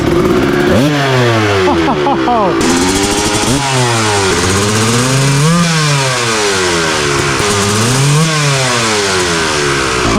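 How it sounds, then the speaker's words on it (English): A cheap two-stroke dirt bike engine revs hard again and again, pitch climbing and dropping in repeated loud blips, very close and dominating. "The sound of a two-stroke is hard to beat."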